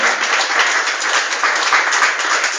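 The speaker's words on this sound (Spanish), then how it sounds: "denle un aplauso al Señor" A church congregation applauds continuously, a dense wash of clapping that stays loud and even throughout.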